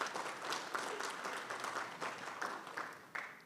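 A seated audience at a West Sacramento State of the City event breaks into broad applause, a continuous wash of many hands that swells and ebbs slightly, fairly distant in the room.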